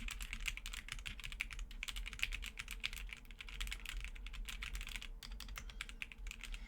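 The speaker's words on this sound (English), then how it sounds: "This is a keyboard tester, so I can test the keyboard." Rapid, continuous clacking of keystrokes on a mechanical keyboard set up on a keyboard tester, close and fairly quiet, with uneven bursts and brief pauses and no talk.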